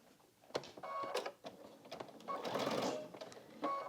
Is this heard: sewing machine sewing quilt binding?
yes